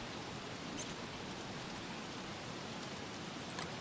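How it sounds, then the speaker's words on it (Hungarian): Steady broadband hiss of rain falling in the Don't Starve game world, constant and moderately quiet throughout with a couple of faint soft ticks on top, no talking. "Ez az eső, ez engem zavar"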